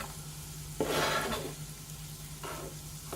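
Chopped onions hit a hot pan with a sudden loud sizzle that swells and then settles into a steady frying hiss, followed by a second, softer burst of crackling as they are stirred.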